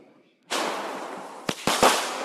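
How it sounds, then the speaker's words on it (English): Fireworks bursting outdoors on a July 5th evening at a Poconos, Pennsylvania vacation spot: a sudden loud crackling blast followed by a few sharp close pops over a dense sizzling roar. "we did more fireworks"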